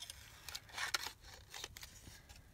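Scissors snipping through paper card pieces for a journal card, a few quick soft cuts in an irregular rhythm, faint and close in a quiet room.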